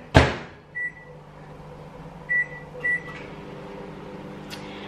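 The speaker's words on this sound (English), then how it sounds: "I'm gonna put this in the microwave" A kitchen microwave oven heating food: a loud door thump opens the sequence, then short button beeps and a low steady hum as the oven runs, with no talk.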